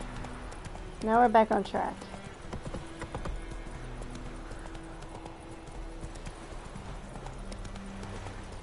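Roach the horse gallops in The Witcher III, hooves clip-clopping in a quick burst near the start and then fading into a steady background, with someone talking over it.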